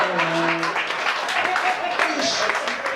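Audience applause at a live stand-up comedy show, steady broadband clapping filling the whole stretch with voices talking over it.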